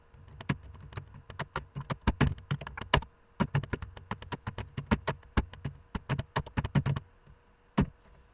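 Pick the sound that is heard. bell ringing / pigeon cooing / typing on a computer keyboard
typing on a computer keyboard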